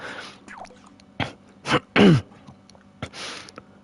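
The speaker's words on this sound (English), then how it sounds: "This infernal cough." A person coughing and clearing their throat in a few short, harsh bursts close to the microphone, one with a rough voiced edge, separated by brief quiet gaps.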